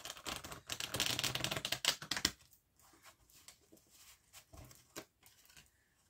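A deck of Marseille tarot cards is shuffled by hand, starting with a dense, rapid riffling patter for about two seconds, then thinning to scattered soft flicks and taps, with no voice.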